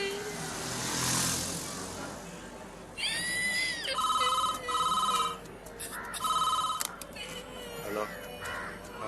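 A telephone rings in repeated electronic bursts, loud and near, with short pauses between rings over a faint outdoor backdrop with occasional crow caws, in a Tamil film scene.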